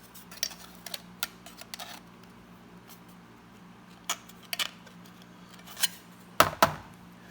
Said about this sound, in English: Take my tin snips,